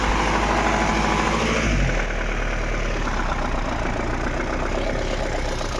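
Iveco truck engine idling nearby, a loud, steady low rumble with a knocking rhythm, its pitch dropping slightly partway through.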